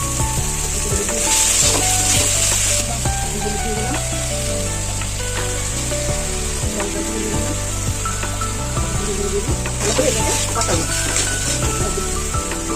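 Onion, ginger-garlic paste and spices sizzle loudly in a pan with stirring scrapes, while a steady low musical backing plays underneath the whole time.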